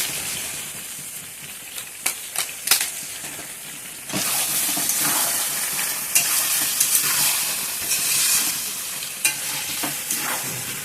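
Mutton curry fries with meat masala in a pan, a loud close sizzle with steamy hiss and sharp scraping clacks of the spoon, growing stronger partway through as the stirring intensifies.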